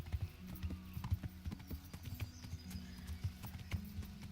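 A horse's hooves clip-clop at a steady trot in the medieval video game Kingdom Come: Deliverance, clear, evenly spaced thuds over a low background.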